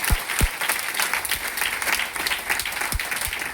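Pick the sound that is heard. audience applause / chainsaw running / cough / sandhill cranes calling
audience applause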